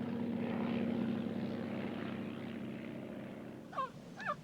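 A small propeller bush plane flying, its engine a steady droning hum that slowly fades, with two brief chirping calls near the end.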